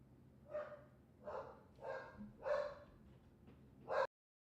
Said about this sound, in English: As my dogs go nuts